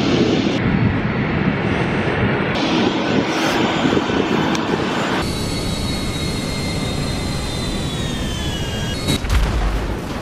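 A departing airliner roars at a distance in one sustained, loud engine rumble with a rising whine, heard steadily from the ground.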